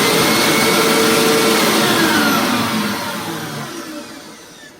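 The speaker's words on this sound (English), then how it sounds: "This Hoover, but it does not have any bags in it, so I'm just going to run it like this." A bagless Hoover vacuum cleaner runs loud and close with a steady broadband roar and high whine that gradually fades over the last couple of seconds.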